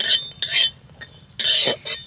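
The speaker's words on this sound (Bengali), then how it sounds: "শুকনো কড়াইতে একটু নেড়ে চেড়ে বাদামগুলোকে ভেজে নেব" Cashew nuts being stirred and dry-roasted in a dry wok, producing a few bursts of bright scraping and rattling, loud and close, separated by short pauses.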